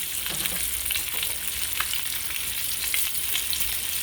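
Kielbasa sausage frying in a pan, a steady close sizzle with occasional pops and scrapes running throughout, no voices.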